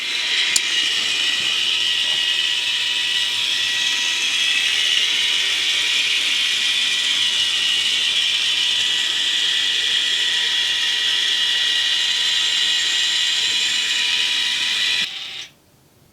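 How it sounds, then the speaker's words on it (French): Antenna rotator motor turning on a house roof, a steady high-pitched mechanical whine and hum that runs evenly for about fifteen seconds before stopping abruptly, close and alone without talk. "le moteur tourne très très bien, c'est rien qui force"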